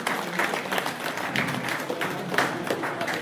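Applause from an audience at a college valedictory session as the principal is honoured, a steady wash of clapping across the whole stretch with some voices mixed in.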